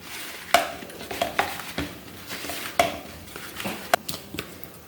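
Finely chopped jaggery being mixed into bhindi fry ingredients in a bowl: irregular utensil knocks and scraping stirs, close and moderately loud.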